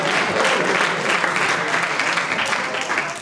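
An audience at a stand-up comedy show breaks into steady clapping, a dense wash of applause close and loud that tapers slightly toward the end.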